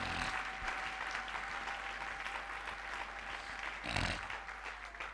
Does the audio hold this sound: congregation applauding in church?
yes